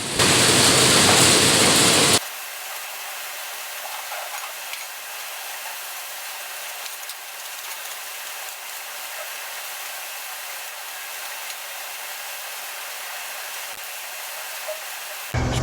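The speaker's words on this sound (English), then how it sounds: "Blow this out with a leaf blower" A leaf blower roars loud and close for about two seconds while clearing debris around a farm grain dryer, then cuts to a steady, softer broadband hiss of airflow that holds for the rest, with a brief loud burst at the very end.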